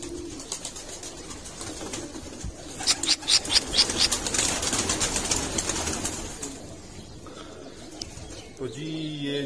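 Pigeons coo on a rooftop under a sheltering shed, a run of soft repeated calls building in the middle over faint background noise, with a voice speaking at times.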